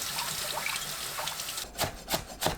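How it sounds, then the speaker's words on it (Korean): Thinly sliced onion is rinsed in water through a sieve, with soft sloshing and trickling followed by three quick splashy bursts near the end. "체에 거르고 물에 가볍게 헹궈주세요."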